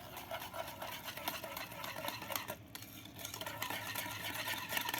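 Oreo biscuit cake batter with room-temperature milk is whisked briskly in a bowl, a rapid, continuous wet scraping and tapping of the whisk against the sides, close and fairly quiet.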